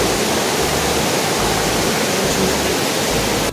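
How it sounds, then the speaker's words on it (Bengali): Devkund waterfall in Odisha during the rainy season, heavy water rushing and crashing in a loud, steady broadband roar that holds unbroken throughout before cutting off at the very end. "আর বর্ষাকালে জলের স্রোত দেখুন।"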